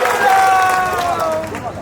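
At an election nomination rally in Kawardha, a crowd answers with applause and a busy hubbub of voices, loud and continuous throughout, with a tonal horn or music line running underneath.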